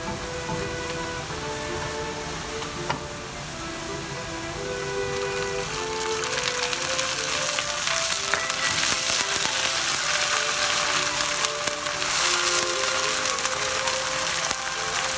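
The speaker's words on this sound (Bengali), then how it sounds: "পেঁয়াজটা প্রায় ভাজা হয়ে গেছে। এখন আমি এখানে দিয়ে দিব পেঁয়াজ বাটা, আদা বাটা আর রসুন বাটা।" Onion, ginger and garlic paste sizzles in a pan of frying onions, a steady close crackling hiss that grows louder and denser partway through, with faint background music.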